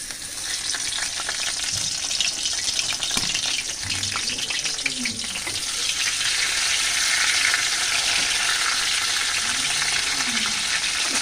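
Fritters (bora) fry in hot oil in a wok, a dense continuous sizzle that runs throughout with a few soft clinks and faint talk underneath.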